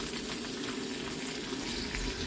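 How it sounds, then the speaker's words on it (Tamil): Cleaned dried prawns fry in sesame oil for a sundakkai thokku, a steady, even sizzle at close range with faint stirring, brief and unbroken, no voices. "இறால் கருவாடை நல்லா பொரியட்டும்"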